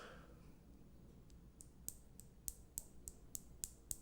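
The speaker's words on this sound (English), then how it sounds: "let's see if I can get this to click for you, because these things do click" Plastic fishing beads click together in a quick series of about ten small, sharp, dry ticks, close and faint against a quiet background.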